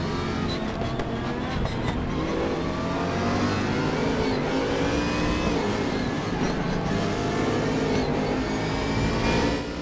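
A race car engine in the Raceroom racing game revs and accelerates steadily for about ten seconds, its rising and falling pitch sweeping through gear changes, loud and close with no talk over it.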